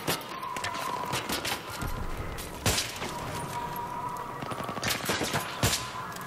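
Rapid automatic gunfire in the video game Battlefield 3, with dense crackling bursts and several sharper shots standing out against steady loud battle noise, with no talk.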